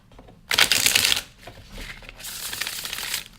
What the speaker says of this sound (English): It's so satisfying actually, like shuffling this deck.